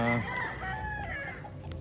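A claret gamefowl rooster crows once, close and clear, in a short harmonic call that fills the brief moment.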